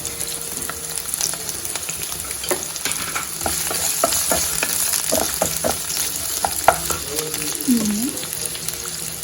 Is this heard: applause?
no